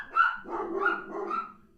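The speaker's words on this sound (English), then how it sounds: "Dogs are going hard." Dogs barking hard in a run of overlapping barks and yips, fairly close and loud, with no talk over them.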